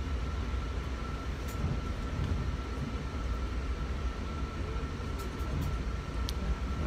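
Steady low rumble of a Long Island Rail Road commuter train in motion, a continuous dense roar with a faint hum and occasional light rattles, no voices.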